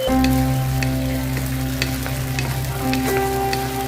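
Chicken frying in hot oil: a loud, close, continuous sizzle and crackle with a steady low hum beneath it and no talking.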